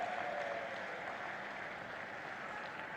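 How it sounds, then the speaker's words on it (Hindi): A large crowd applauds to welcome Prime Minister Narendra Modi at a Kusum Yojana event in Rajasthan, a dense, steady roar of clapping heard from a distance without a break. "मंच पर विराजमान हमारे देश के गौरव यशस्वी प्रधानमंत्री नरेंद्र मोदी जी का एक बार जोरदार तालियों के साथ स्वागत और अभिनंदन करें"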